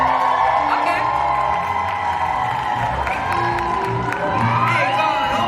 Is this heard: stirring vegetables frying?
no